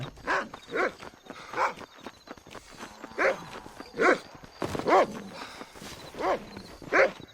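A dog in Red Dead Redemption 2 barks repeatedly at a moderate distance, about a dozen sharp barks in an uneven rhythm, with faint hoof clops and ambient game sound beneath.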